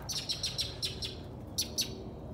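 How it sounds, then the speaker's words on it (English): Birds chirp outdoors in a backyard in February, a series of short, bright tweets in two bursts over a low steady background, fairly close and clear with no talk. "Those birds."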